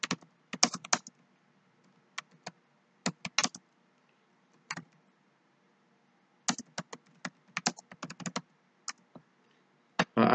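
Scattered bursts of keystrokes on a computer keyboard, typing a search query: quick clusters of clicks separated by pauses, close and fairly quiet, with no talking.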